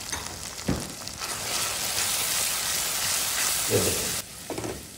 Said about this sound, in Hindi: दाल शामिल करने के बाद हल्की सी हमने कर ली भुनाई